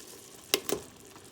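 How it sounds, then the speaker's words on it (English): Chopped onions dropped into a pot of Guyanese-style mutton curry, with two quick sharp hits followed by a faint, steady sizzle. "right now I'm gonna add my onions, and I'm gonna add my 3 onions that I cut up earlier"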